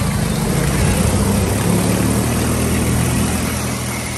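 A motorcycle engine idles steadily up close in a flooded street, a constant low rumbling putter with no talking, holding the same level throughout.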